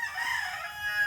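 A rooster crows close by, one short sustained call filling the brief moment, with farm chickens nearby.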